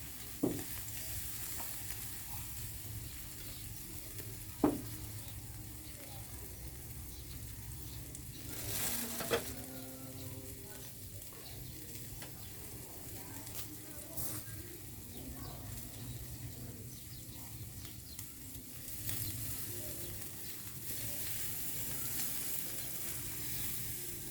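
Pork and other food frying in hot oil, producing a steady, close sizzle and crackle that lasts throughout, with a few soft knocks from utensils.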